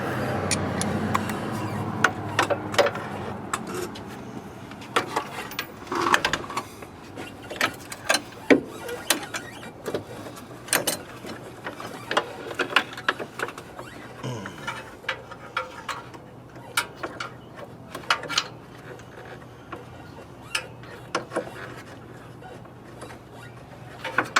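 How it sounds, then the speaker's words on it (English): Ratchet clicks and light metallic tool taps come in irregular bursts while spark plugs are worked out of the passenger side of a 1985 Corvette Z51 engine, close and moderately quiet over a low steady hum. "let's see if we can get these spark plugs out now somehow, some way"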